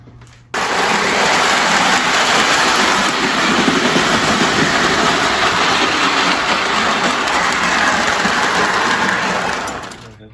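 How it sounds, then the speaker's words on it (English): A small Lionel O-gauge pre-war 262 toy steam train rumbles steadily along metal track, a continuous whirring clatter close by that starts abruptly and fades at the end. "This is the Lionel O-gauge pre-war 262 steam engine."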